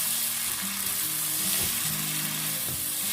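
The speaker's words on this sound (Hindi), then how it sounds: "2 से 3 मिनट के लिए इसको मीडियम फ्लेम पर कुक करेंगे।" Corn, carrots and mushrooms cooking in a pan over a medium flame for vegetable pasta: a continuous close sizzle with occasional stirring scrapes, no talking.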